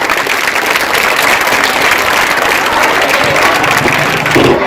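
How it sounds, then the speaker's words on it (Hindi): Loud, dense applause from a large audience fills a school annual function, a continuous roar of many clapping hands that holds steady throughout with no voices. "आपकी तालियां आनी चाहिए बहुत जोरदार"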